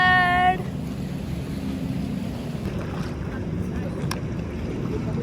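Steady wind and water rush from a jet ski ride near Dubai or Sharjah, a continuous broadband roar with a brief whistle-like tone at the start, loud and close throughout.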